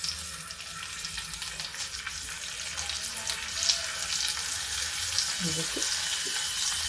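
Stuffed eggplants, bharwa baingan, fry gently in hot oil, giving a steady close hiss and crackle throughout, with someone briefly speaking over it.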